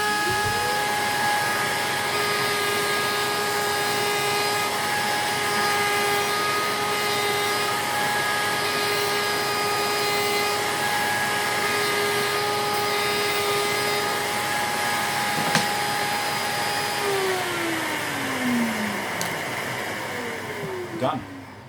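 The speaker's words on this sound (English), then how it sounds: "Turn the router on." A CNC-cut workpiece gets its holding tabs trimmed on a woodworking router table, the router whining steadily with a dust extractor hose attached, a continuous loud whir that shifts pitch near the end as cutting finishes.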